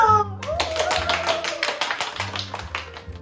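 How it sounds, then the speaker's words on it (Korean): Quick bursts of hand clapping from a small group over a steady backing of music from a band with keyboard, guitar, bass, drums and vocals, lively and close, with a few louder taps standing out. "박수!"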